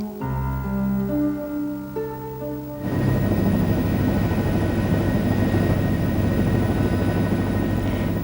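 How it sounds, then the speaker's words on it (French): A helicopter flies at about 30 metres above a forest of giant sequoias around 100 metres tall. Soft tonal music fades out, then a loud, steady rotor and engine roar holds without a break to the end. "Notre hélicoptère vole au-dessus d'eux à une altitude de 30 mètres."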